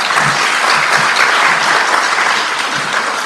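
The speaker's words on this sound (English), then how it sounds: "keep those clapping hands going" Loud, steady applause from a large crowd at a scholarship awards ceremony, dense clapping throughout with no talking.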